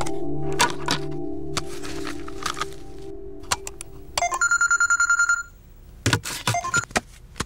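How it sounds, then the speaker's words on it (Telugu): An incoming call rings on a mobile phone, a bright repeating electronic ringtone sounding in quick pulses, followed by sharp clicks and knocks from handling the phone. "అరే ఒక్క నిమిషం ఆగరా, ఏదో కాల్ వస్తుంది"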